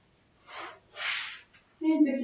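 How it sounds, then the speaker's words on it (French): Two soft, airy breaths during a yoga session, an inhale then a longer exhale close to the microphone, followed by a voice speaking. "Une petite respiration ici."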